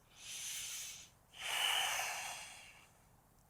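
Two slow, airy yoga breaths close to the mic, a long exhale, a brief pause, then a fuller breathy inhale-exhale with a soft hiss and a small click at the end, no talking.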